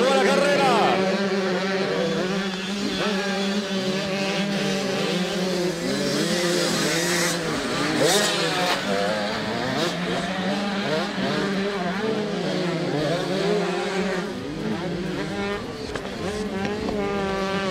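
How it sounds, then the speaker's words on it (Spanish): Motorcycles with 85cc engines accelerate on a motocross track during a national championship race, producing a continuous, high-pitched, rising and falling engine whine that blends several bikes, with an announcer talking over them. "van acelerando los pilotos en la pista"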